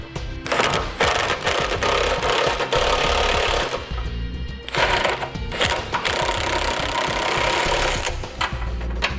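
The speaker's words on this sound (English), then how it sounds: "So I'm going to be using a 3/4 inch socket and wrench when I come to it, and I'm going to be tightening up all the bolts." A 3/4 inch socket and wrench run up the bolts of a Roadmaster Direct-Connect base plate kit on a 2007 Jeep Liberty, giving loud, rapid mechanical rattling in long bursts with brief pauses and no talking.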